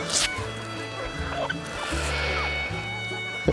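Chickens cluck and murmur in the grass as they peck at thrown corn feed, several birds close by with short, overlapping calls over a low steady hum.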